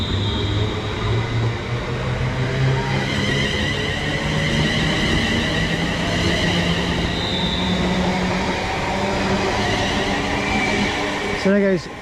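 Class 350 electric multiple units 354.06 and 353.70 departing Penkridge station on the Trent Valley line, a steady loud rumble of wheels and traction with a rising whine, ending in a brief squeal as the train draws away.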